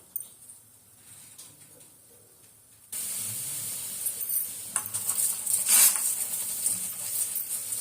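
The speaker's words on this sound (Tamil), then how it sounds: "கடலைப்பருப்பு வேகுது." Chana dal boiling in a pot on the stove, a steady bubbling hiss that starts faint and grows louder and fuller partway through, with occasional small clinks.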